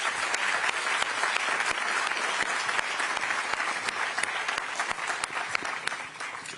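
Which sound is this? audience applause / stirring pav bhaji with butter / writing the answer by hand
audience applause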